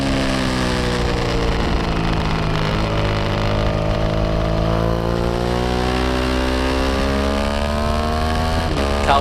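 Standard Twins racing motorcycles at Donington GP scream past close by, several engines layered in a continuous high-revving roar with pitches sweeping and shifting as bikes jostle in the slipstream.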